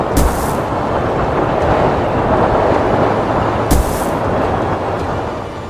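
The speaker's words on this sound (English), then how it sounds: "But later that day, a storm hit Sodor." Storm sound effect on the island of Sodor in a Thomas the Tank Engine toy-train story: steady loud roar of wind and rain with two sharp thunder cracks, one near the start and one near four seconds.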